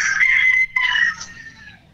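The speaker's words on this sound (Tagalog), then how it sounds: "Ayun, binati ka ng manok, partner." A rooster crows loudly and close by, one long drawn-out call that breaks briefly in the middle and then tails off, heard alone with no talking.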